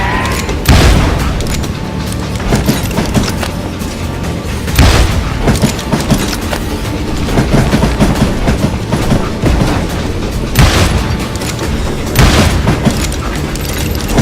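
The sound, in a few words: train in the video game Call of Juarez Gunslinger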